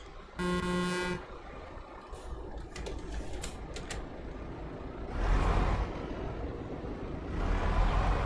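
A truck horn in Euro Truck Simulator 2 on a Turkish road between Adana and Karaman, sounding one loud sustained honk, then traffic and engine noise with a few sharp clicks.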